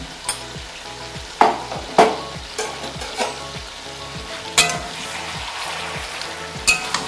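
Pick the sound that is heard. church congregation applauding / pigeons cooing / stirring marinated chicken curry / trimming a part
stirring marinated chicken curry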